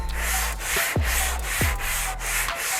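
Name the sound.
hand sanding car body epoxy with 180 grit sandpaper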